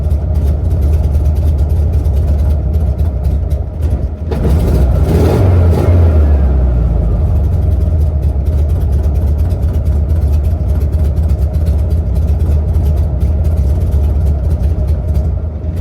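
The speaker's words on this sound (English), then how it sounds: "let that idle for a second" A 1969 VW Bus engine with carburetor trouble idles loud and close in a steady low rumble, with a brief rev and surge partway through before settling back to a rough, even idle.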